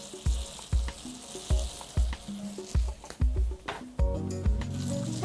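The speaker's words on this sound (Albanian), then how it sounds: "mbasi kemi dhënë një skuqje të lehtë nga të gjitha anët" Food lightly fried on all sides in a pan on a cooking show, sizzling steadily with repeated clinks and scrapes of stirring roughly every half second, fairly close.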